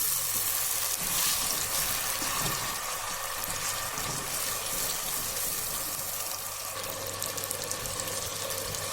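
Onion, garlic ginger paste and tomato paste sizzle in a pan as a steady, close frying hiss, with a faint watery wash running beneath it and no one speaking.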